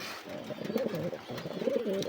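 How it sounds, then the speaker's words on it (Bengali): Soft, low pigeon coos repeat in a gentle rolling rhythm, close by at a pigeon farm with nesting pigeons and chicks after rain, with faint background noise and no talking. "এই যে কবুতর এখানেও বাচ্চা নিয়ে আছে"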